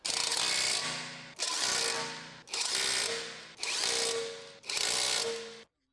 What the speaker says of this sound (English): Use the 17mm on the impact to tighten.